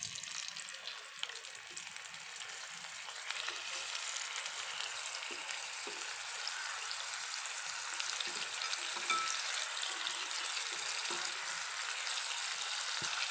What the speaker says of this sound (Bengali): তেলটা গরম হয়ে গেছে। এবারে মাছের পিসগুলো দিয়ে দেবো।